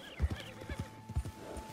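Horse hooves clip-clop in an uneven rhythm with a brief whinny, close and moderately loud, with no talking, in the video game Red Dead Redemption 2.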